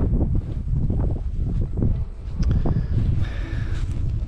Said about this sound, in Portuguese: Com esse vento, temos que deixar a barraca bem instalada pra ela não sair voando.